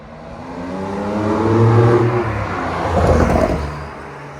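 A modern Porsche 911 Carrera 4S passes outside, its engine note swelling loud as it revs and accelerates, then a second rising surge with crackly exhaust bursts.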